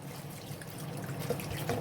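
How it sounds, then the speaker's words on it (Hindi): Water poured into a pot of spiced chicken being prepared for pakora, a soft steady splashing and trickling close by, running continuously without talk. "पानी डाल लेंगे"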